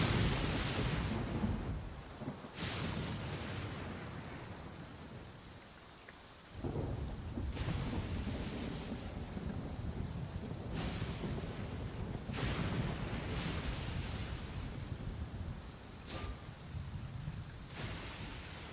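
A thunderstorm with steady rain pattering on surfaces, broken by several rolling thunder cracks and rumbles at intervals, some nearer and sharper, others more distant, with no one speaking.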